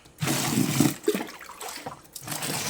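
Water gushes steadily into a drum holding soap, mixed into suds for washing a truck. The pour is loud and close, with rushing, splashing texture and a brief dip partway through.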